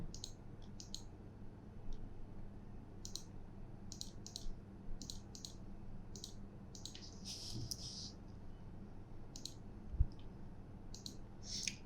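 Computer mouse clicks in a quiet room, a series of short, sharp, irregular taps spaced through the stretch, close and fairly soft, with no talking.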